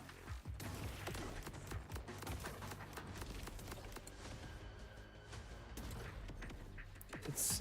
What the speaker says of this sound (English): Let's see how the grenade works.